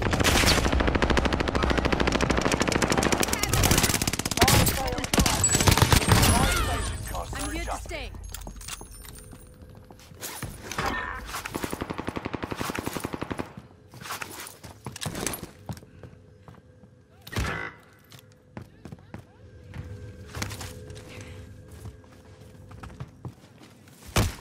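Gunfire in the video game Call of Duty Modern Warfare: a dense, loud burst of automatic fire, then scattered single shots and clatter, with voices talking over parts of it.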